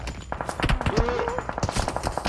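Rapid gunfire bursts from the mobile battle-royale game PUBG Mobile on the Sanhok map, a string of sharp repeated shots under a faint voice and in-game noise.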